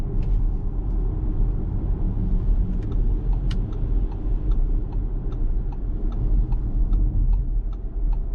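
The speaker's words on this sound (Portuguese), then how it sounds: "O carro ganhar um pouco mais de velocidade. Vou acelerar." Audi e-tron electric car accelerating on a highway, a steady low road rumble and hum from inside the cabin with faint regular ticking above it, no talking.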